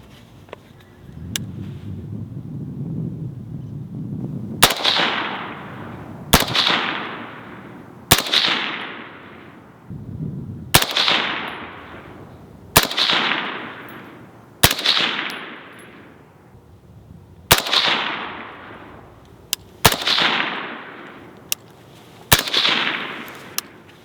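Suppressed gunshots through a Dead Air Sandman X suppressor, about a dozen sharp muffled reports fired one at a time at irregular intervals outdoors, each with a short decaying tail, no talking.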